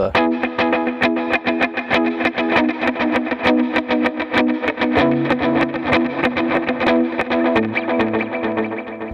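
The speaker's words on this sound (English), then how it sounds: "It sounds really good if you use both the delays together." Electric guitar strumming steady eighth-note chords through two delays together, layered echoes smearing the rhythm into a shimmering, repeating wash.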